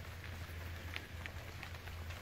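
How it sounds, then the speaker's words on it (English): Light garden rain sprinkling steadily on surfaces, a soft continuous patter with a few sharper drop ticks, faint and even, with no voices. "Rainy. At least it's just sprinkling."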